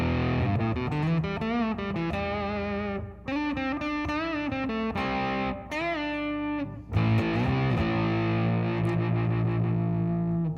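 An electric guitar runs through a Big Muff Pi distortion pedal with the sustain control turned down, giving loud, fuzzy strummed chords and riffs with brief gaps between phrases.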